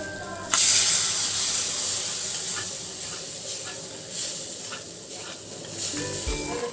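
Ghee-fried cashews and raisins poured into a pot of sweet pongal, with a sharp sizzling burst at the start settling into continuous hissing and steam, punctuated by light stirring knocks and a low thump at the end.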